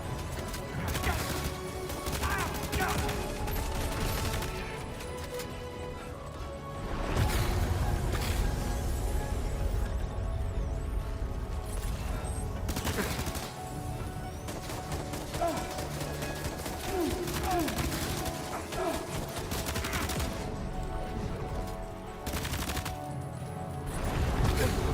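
Gunfire from the video game Death Stranding 2 rattles in dense bursts and scattered shots over a busy game soundtrack, continuous and loud throughout, with someone talking at times.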